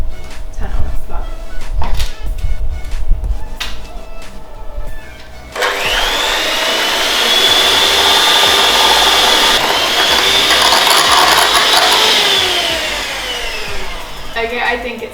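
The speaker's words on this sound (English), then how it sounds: "beat the egg whites and granulated sugar together for a high speed for 5 minutes until stiff peaks form" Electric mixer beating egg whites and granulated sugar at high speed, a loud steady whirring hum that starts abruptly after some kitchen clatter and carries on for several seconds, with a voice heard around it.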